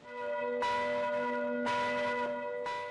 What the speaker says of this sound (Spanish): en este taller de Normandía están elaborando 8 campanas que serán instaladas en las torres de Notre Dame